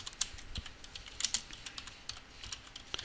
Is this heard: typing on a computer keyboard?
yes